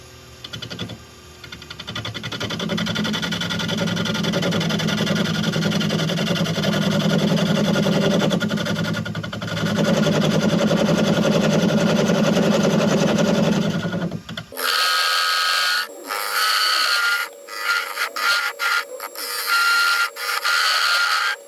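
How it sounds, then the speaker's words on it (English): Wood lathe spinning a hollow form while a bowl gouge shapes its sides, a sustained whirring hum with cutting noise for most of the clip, then the machine stops and a few scattered clicks follow. "I'm going to get my ball gouge out and start shaping these sides"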